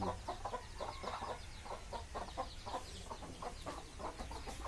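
Backyard chickens with their chicks, flock thinned by cat attacks, cluck and peep in a steady run of short, repeated calls close by, with no talking.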